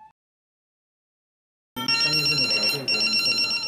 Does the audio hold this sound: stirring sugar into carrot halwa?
no